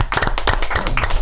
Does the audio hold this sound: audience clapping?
yes